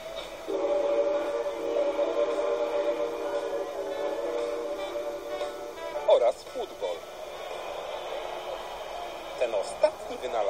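A long, steady steam whistle sounds for several seconds, then fades into rumbling machinery with a few short sharp bursts.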